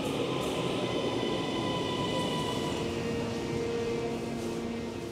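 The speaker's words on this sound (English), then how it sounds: "6-car electric train." A steady rumble of a six-car electric multiple unit train running through Bolton, with a faint motor whine and hum, continuous and moderately loud.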